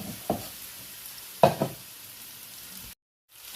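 Potatoes sautéing in a pan give a faint, steady sizzle, broken by a couple of sharp clacks before it cuts briefly to silence.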